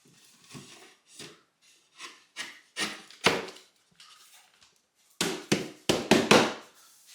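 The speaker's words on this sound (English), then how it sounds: "So we take that packing, we finish nail it in" Wood packing beside a window in a concrete foundation being finish-nailed: a series of sharp, close taps in irregular clusters, each a hammer strike on wood, with a louder run of quick hits near the end and no talk.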